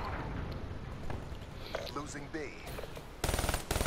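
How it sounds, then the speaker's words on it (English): Rapid gunfire from a first-person shooter video game, scattered shots building into a loud sustained burst of automatic fire near the end, mixed with game effects and someone talking. "I hear the gunshots and everything."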